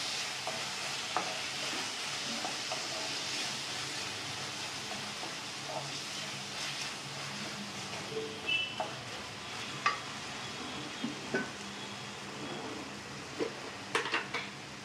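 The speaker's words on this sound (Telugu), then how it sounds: "ఒకసారి ఇలాగా బాగా కలుపుకుందాము." Eggplant and tomato fry being stirred in a pan: a soft continuous sizzle with scattered scraping and clinking of a utensil against the pan, growing more frequent toward the end.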